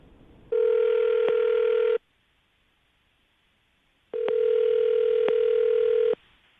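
Ringback tone on an outgoing phone call, two long steady buzzing rings separated by a quiet gap, clean and close with no talk.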